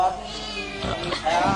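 A cat meows over ongoing speech and background sound, its tonal cries rising and falling a few times across the short stretch.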